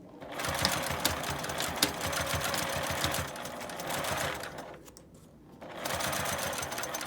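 Sewing machine stitching along the edge of a felt coin purse, a rapid mechanical whirring in steady bursts with a short pause before stitching resumes, close and fairly quiet.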